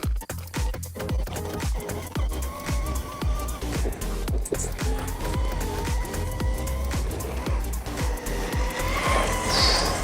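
A motorcycle engine roars at speed with repeated revving, and tires squeal faintly toward the end as it brakes hard, heard over steady road noise.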